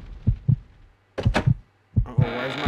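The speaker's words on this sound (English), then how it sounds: "Uh-oh, why is my heart pounding?" A pounding heartbeat in the Resident Evil Code Veronica X video game: three deep double thumps, each pair sharp and close, spaced about a second apart, with a low hum between and a hiss rising at the end.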